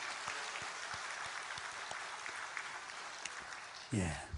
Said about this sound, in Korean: 우리 새 가족들에서 한번 박수 한번 치십시다.